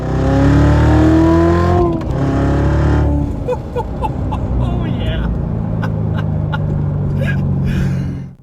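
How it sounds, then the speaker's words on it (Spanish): A Chevrolet Corvette Z06 engine revs hard under full throttle, loud and close, the pitch climbing then dropping at a shift before building again, with a voice speaking over it. "Bueno, voy a pisarle a fondo aquí."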